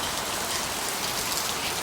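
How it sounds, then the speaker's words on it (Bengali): Heavy rain pours down in Chittagong, a dense, steady hiss with no gaps, loud and close throughout, and no voices. "প্রচুর বৃষ্টি হচ্ছে"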